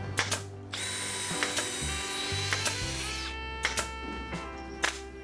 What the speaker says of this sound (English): Rick staples the field into the ceiling framing.